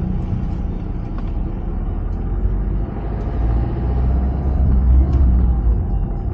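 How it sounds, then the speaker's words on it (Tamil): Vehicle engine running steadily on a hill road in a reserved forest area, a loud continuous low rumble close by that swells slightly toward the end, with no talk over it. "வண்டி ஸ்டார்ட் ஆனது இவ்வளோ ஒரு சந்தோஷம் உங்களுக்கு."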